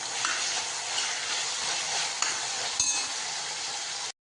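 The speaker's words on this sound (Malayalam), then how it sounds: "8 കോവക്കായ നീളനരിഞ്ഞതാണ് കേട്ടോ. ഇതിലിട്ടിട്ട് നന്നായി ഒന്ന് വഴറ്റി കൊടുക്കാം" Sliced ivy gourd, chopped tomatoes and four green chilies sauté in a pan for an ivy gourd fish curry, giving a steady, close sizzle with light stirring clinks and no talk until it cuts off abruptly.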